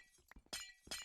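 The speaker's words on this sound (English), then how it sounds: "The relaxing sound of glass breaking when I pick it up" Glass shattering in the TerrafirmaGreg modpack as a block is picked up: two crisp, bright breaking bursts about a third of a second apart, each preceded by small clinks, close and clear with no talk.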